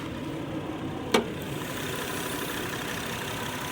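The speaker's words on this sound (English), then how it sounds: "the almighty J35Y1 with the 6-speed automatic transmission" A steady, low idle from the 3.5-litre J35Y1 V6 of a 2017 Honda Accord Coupe hums evenly throughout, with a single brief click partway through.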